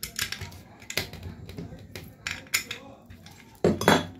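Sharp metallic clicks and taps repeat irregularly, close and moderately quiet, as screws are fitted and tightened on a ceiling fan being repaired for a winding fault.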